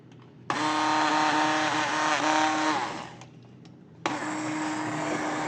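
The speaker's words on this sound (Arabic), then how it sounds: "انا بخلطها بهذه الخلاط اليدوي" A handheld immersion blender purees a pot of cooked lentil soup, whirring loudly for about two and a half seconds, stopping briefly, then starting again with a steady high motor whine.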